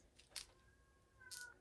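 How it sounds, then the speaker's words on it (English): A house cat meows softly in the background, two short faint calls with quiet ambience between them, no talking over it. "My cat's meowing."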